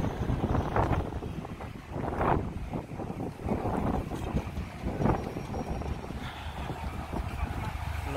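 A boat off Bonifacio, Corsica, runs under sail and engine in blustery wind, with heavy wind buffeting the microphone over a continuous rushing drone and occasional voices in the background.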